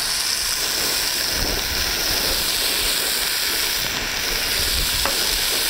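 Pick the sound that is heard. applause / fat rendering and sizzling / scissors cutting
fat rendering and sizzling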